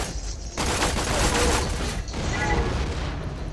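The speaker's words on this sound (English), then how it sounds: "It fires spikes that explode." Explosive spike rounds from the Tech Spiker pistol in Borderlands 2 go off in a dense burst of cracks and booms, loud and near, with a brief quieter gap midway before a second volley.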